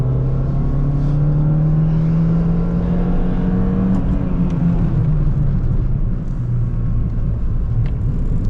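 A Peugeot 206 drives through slow corners, its engine humming steadily and loud from inside the cabin, pitch rising and easing as it accelerates and backs off, under a constant road rumble.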